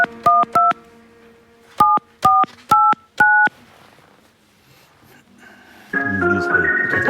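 Touch-tone keypad dialing: a quick burst of three tones, a pause, then five more evenly spaced beeps, each short and clear. A low steady hum sits underneath, and a louder tonal ring or signal begins toward the end.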